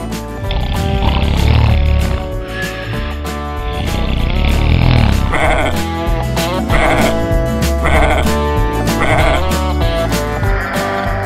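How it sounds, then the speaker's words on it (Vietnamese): Goats bleating loudly and repeatedly in an animated cartoon, several overlapping calls close by, a noisy chorus with barely a pause. "Lũ dê này ồn ào quá đi mất"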